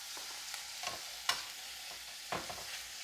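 Shrimp sizzling in a frying pan, a steady soft fry hiss broken by a few sharp clinks and scrapes as they are stirred, close and fairly quiet with no talk.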